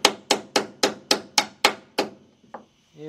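Eight sharp, evenly spaced metallic hammer strikes ring out close up, knocking out a rear brake pin on a 2002 Chrysler PT Cruiser, then one lighter tap and a short clatter as the blows stop.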